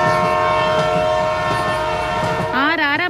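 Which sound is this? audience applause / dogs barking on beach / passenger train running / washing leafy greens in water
passenger train running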